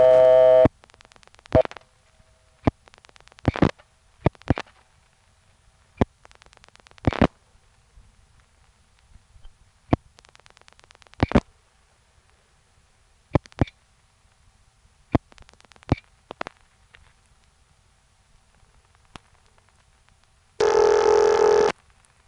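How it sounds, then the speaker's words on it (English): Line clicks and relay pulses of a step exchange on a local call in the 914 area of New York, heard as sparse, sharp switching clicks, then a loud burst of ringing tone at the end. "the ringtone sounds very delicate"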